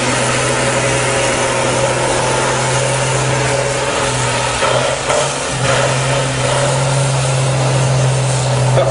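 A drag racing truck engine at Santa Pod roars at full throttle during a burnout, a loud constant low drone with gritty tyre and exhaust noise, close and unbroken throughout.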